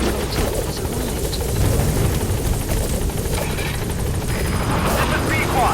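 A support helicopter in Metal Gear Solid V arrives with a loud, steady rotor thump and engine whine, close and continuous throughout, with game voice chatter over it.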